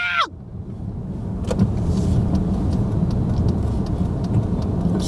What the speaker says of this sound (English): this Atlanta traffic ain't no joke!